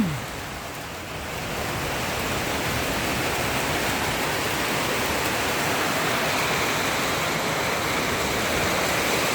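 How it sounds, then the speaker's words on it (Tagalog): Steady, broadband rain pouring down outdoors on a farm field, a constant loud hiss that holds evenly throughout with no talk over it. "Binanatangan na naman kami ng ulan."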